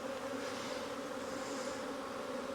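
Honeybees hum in a dense, continuous buzz while a single brood chamber hive is opened for an April inspection. The buzz is steady and close, with no talk.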